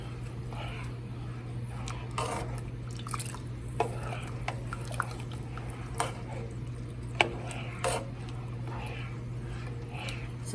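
Spoon stirring sugar into fresh peaches in a pot for canning, with soft wet squishes and occasional light clinks against the pot over a steady low hum, and no talking.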